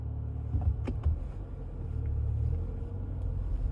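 A Volkswagen Arteon with the 280 hp 4Motion engine idles at about 1100 rpm while stopped, giving a steady, close low rumble that holds even throughout, with no talking.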